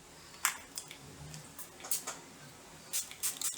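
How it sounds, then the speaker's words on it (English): Several soft, quick hissing spritzes of a makeup setting spray bottle come in small clusters against a quiet room. "This is the Seal It Makeup Setting Spray. So we're going to use this."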